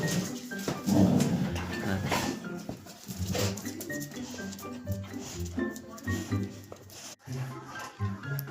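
Two Labradors play-fight and bite at each other with growls, yips and whimpers, close by and fairly loud, with a human voice faintly mixed in.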